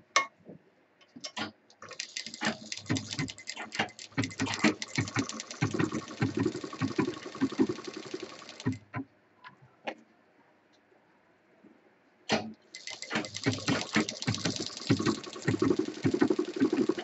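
Sewing machine stitching a zip onto a fabric office handbag, running in rapid rattling bursts that stop for a few seconds of near silence before starting up again, close and fairly loud.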